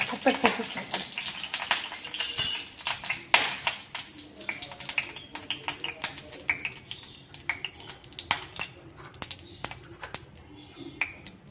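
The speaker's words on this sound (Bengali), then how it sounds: "শুধু গুগলিগুলোই ভেজে নেবো" Apple snails frying in a hot wok, a steady crackling sizzle with scattered sharp pops and clicks of a spatula, close and moderately loud.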